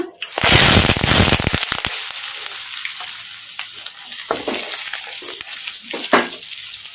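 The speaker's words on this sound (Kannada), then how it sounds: "ಕರಿಬೇವು ಬೆಳ್ಳುಳ್ಳಿ ಹಾಕಿದ್ಮೇಲೆ ಒಂದು ನಿಮಿಷ ಅಷ್ಟೇ ಈ ಥರ ಕಲಸ್ಕೊಂತ ಫ್ರೈ ಮಾಡ್ಕೋಬೇಕು" Crushed garlic and curry leaves hit hot oil with popping mustard seeds and cumin, giving a loud burst of crackling and spitting that settles into a steady, close sizzle with occasional pops and stirring sounds.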